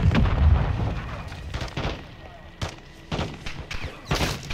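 Artillery fire mission in the video game Modern Warfare II, with repeated booming impacts and bursts rolling under the gameplay, some sharp blasts standing out against a rumbling low background.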